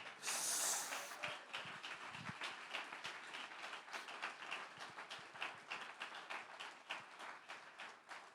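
Applause from a church congregation, a dense patter of many hands clapping steadily for several seconds, somewhat distant.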